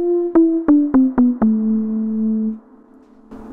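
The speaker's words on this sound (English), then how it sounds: "under synth, and it's called Dirty Pure." A guitar-driven synth patch named Dirty Pure, with five quick plucked notes stepping downward, each with a sharp attack and buzzy tone. The last note holds and sustains before cutting off, followed by faint noise.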